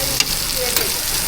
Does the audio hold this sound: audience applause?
no